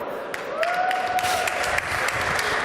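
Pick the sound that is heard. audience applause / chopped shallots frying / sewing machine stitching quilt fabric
audience applause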